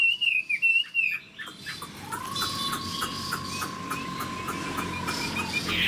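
A newly tamed Chinese hwamei, or melodious laughingthrush, sings in a cage, opening with clipped bright notes, then a long sustained whistle with chirps over it; clear and close, with another caged bird nearby.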